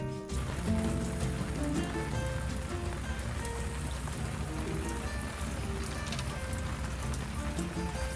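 Steady rain pattering on a sailboat cockpit while aboard during a rainy-day barbecue, a dense continuous hiss of drops with some tonal clutter mixed in, loud and unbroken throughout.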